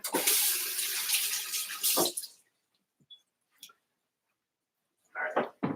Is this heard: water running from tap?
yes